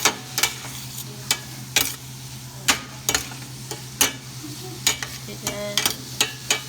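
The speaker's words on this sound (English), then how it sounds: "Alright, I want you to stir it around." Chicken and pasta are stirred in a sizzling pan, with a soft frying hiss throughout and repeated sharp scraping clicks of the utensil against the pan at an irregular, fairly quick pace.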